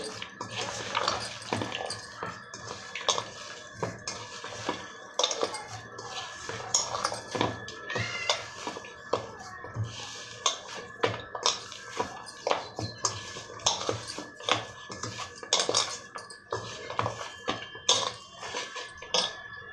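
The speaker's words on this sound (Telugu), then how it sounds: "కొద్దిగా ఆయిల్ వేస్తానండి వేసి మెత్తగా కలుపుకుంటాను" Hands mix rice flour dough with a little oil in a bowl, giving soft irregular squelching and tapping with occasional light clinks, fairly quiet and close, without speech.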